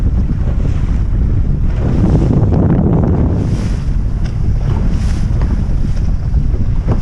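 Wind and water rushing around a Laser sailing dinghy on the open sea, with small rolling waves slapping the hull under steady, loud wind buffeting the microphone throughout.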